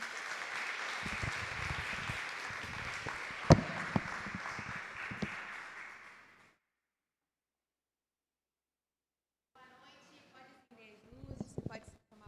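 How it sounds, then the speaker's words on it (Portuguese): A church congregation applauds with a steady wash of clapping and a few sharper claps, fading out after about six seconds, followed by silence and then faint distant voices. "Aplauda o Rei."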